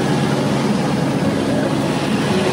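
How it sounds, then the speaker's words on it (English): A sailboat motors along under engine power with the sails still set, about 70 miles off Cuba; a steady, loud, unbroken drone of engine and rushing water fills the whole stretch. "Got the same sail setup, but again, we are motoring"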